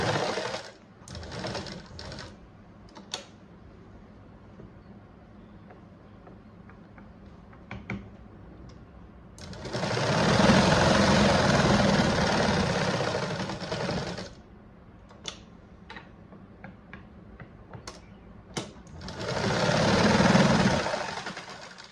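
A sewing machine stitching fabric lining, running in two sustained bursts of rapid mechanical chatter separated by quieter stretches with faint handling clicks.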